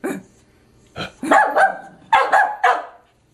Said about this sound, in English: what does the doggy say, Scarlett?